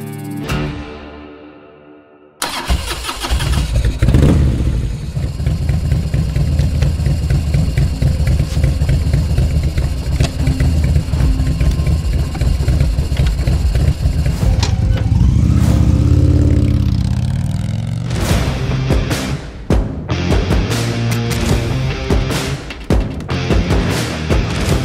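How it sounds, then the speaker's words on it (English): A 2025 Indian Chieftain motorcycle with the PowerPlus engine fires up after a short quiet moment, then runs loud and close, its V-twin note rising in several strong revs before settling back. "First ride on this new Chieftain with the Power Plus motor"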